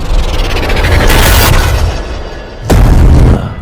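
Two loud, booming gunshots ring out a second or so apart in a comedic movie spoof scene. They sound close and harsh against a busy background, with no talk.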